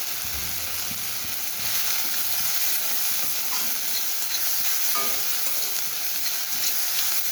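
Chopped tomato and onion frying in a pan over a low gas flame, a continuous soft sizzle with spatula stirring and scraping scattered through it, heard close and without speech.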